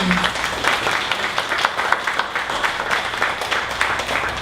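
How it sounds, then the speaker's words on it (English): Audience at a Dallas startup pitch event giving a presenter a round of applause, steady crowd clapping throughout, fairly close and even, with no speech over it. "One more round of applause for John"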